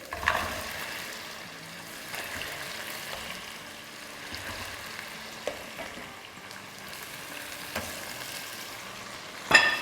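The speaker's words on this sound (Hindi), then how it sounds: "तो अब इसको हम डाल देंगे जिंजर गार्लिक में।" Strained paya, goat trotters, hit ginger and garlic frying in hot oil in a home kitchen. A steady low sizzle runs throughout with faint stirring scrapes and a few soft clinks, ending in a louder knock, all without voices.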